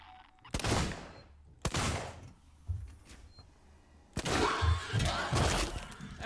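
Gunshots in the survival horror game Alien: Isolation, three or four loud separate blasts with sharp attacks and long ringing decays, spaced a second or more apart, with quiet room tone between.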